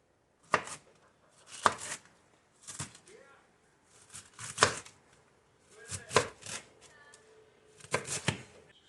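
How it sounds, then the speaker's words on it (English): A knife chops cabbage on a cutting board in short bursts of sharp, close strikes with brief pauses between them. The cabbage is being cut into smaller pieces before going into a pan to wilt. "Now we're going to chop it down into smaller pieces and get it ready to go into the pan to wilt it down."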